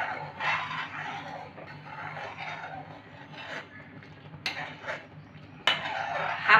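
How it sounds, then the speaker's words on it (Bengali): A spoon stirs and scrapes milk in a pot for kulfi, soft rubbing and metallic scraping strokes at close range with a couple of sharper clinks near the end. "দুধটাকে আরেকবার নেড়ে নেব।"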